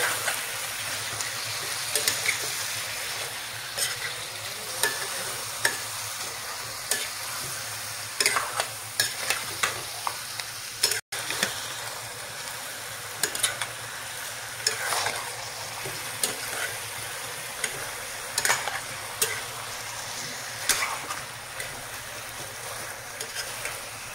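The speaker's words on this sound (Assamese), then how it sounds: "5-6 মিনিট এনেকৈ ভাজি থাকিব লাগিব ভালকৈ" Chicken pieces fry steadily in a hot pan for a chicken roast, a continuous sizzle broken by frequent scraping and clinking as a spoon stirs them, close and fairly loud with no talking.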